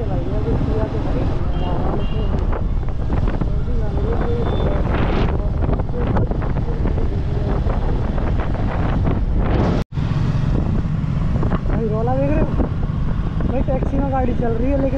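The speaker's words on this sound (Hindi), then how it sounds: "गाड़ी चल रही है" Motorbike riding along a road on the way to Kainchi Dham, with steady loud wind buffeting the microphone and a low engine rumble throughout, voices talking over it and a brief dropout near the ten-second mark.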